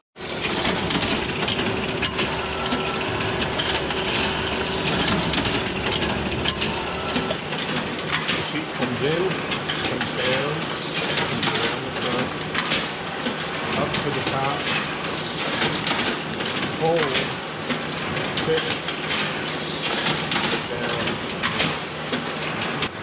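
Konica Minolta booklet finisher making small booklets runs steadily, a continuous mechanical whir with clattering paper-handling noises throughout, a low hum dropping away after the first few seconds.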